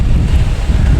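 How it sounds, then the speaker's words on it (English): Strong wind buffeting the microphone at Boston Logan Airport, a steady low rumbling roar with gusty swells throughout, loud and close with no other sounds standing out. "It's just so windy here to try to keep control of this."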